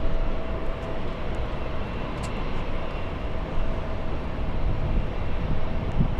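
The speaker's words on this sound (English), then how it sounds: "we have a beautiful SkyTeam livery Delta Airlines 737 coming in" Delta Airlines Boeing 737 in SkyTeam livery on approach to LAX, going around: a steady, broad jet roar holds throughout at moderate distance, with wind buffeting the microphone and no voices.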